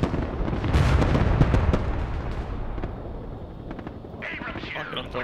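Heavy bombing blasts from the modern military strategy game Broken Arrow, a dense run of booming explosions and gunfire rumbling loudly for several seconds, then easing off as faint radio-like chatter and a voice come in near the end.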